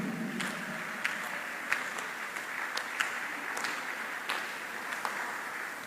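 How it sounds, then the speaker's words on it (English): A church congregation claps during a sermon, producing a soft, continuous spread of applause with a few louder, sharper individual claps popping out now and then across about six seconds. "Clap before I continue."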